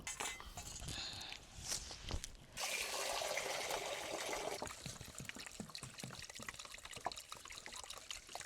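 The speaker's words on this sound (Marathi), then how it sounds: "मटण आता धुवून घेतलं 2-3 पाण्यानं चकचक।" Goat mutton being washed in water in a pot, with close sloshing, trickling and pouring water plus clinks of meat and metal against the vessel, a steadier gush in the middle, no talking.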